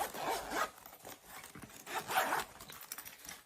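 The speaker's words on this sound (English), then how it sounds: "And then it zips open." A zipper on a sublimation travel bag is pulled open in two quick rasping strokes, close and clear, with no voices.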